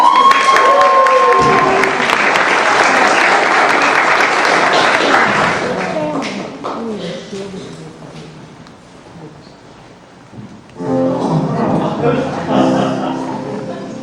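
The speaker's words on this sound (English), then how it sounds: "if we could just have a round of applause for the St. John's Band" Theatre audience applauding and cheering for a school band at a Nunsense musical comedy performance, a loud dense wash of clapping that fades after several seconds, followed by a voice talking.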